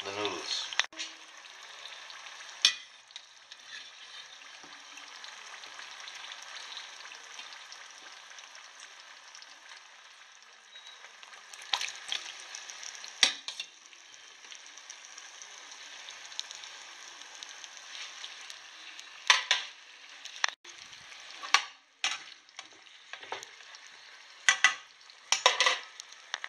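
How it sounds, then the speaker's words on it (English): Noodles frying in a pan with too much oil, a faint, steady sizzle that runs throughout, broken by occasional sharper crackles and clatters toward the end. "I put inside too much oil. Okay, but now I will put in the noodles."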